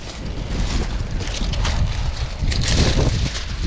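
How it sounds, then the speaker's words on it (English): Strong wind gusting across a pole barn roof, roaring steadily and loud close to the microphone with rushing buffeting that swells near the end, no voices. "That wind is coming."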